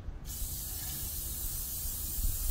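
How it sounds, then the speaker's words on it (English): A steady, continuous hiss of an aerosol spray paint can spraying a model railroad tree, close and loud, starting after a brief pause and holding for a couple of seconds. "spray it down."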